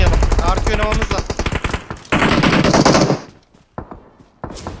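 Rapid automatic gunfire bursts from PUBG Mobile, loud and close, mixed with someone talking over them, then a pause and a few scattered shots.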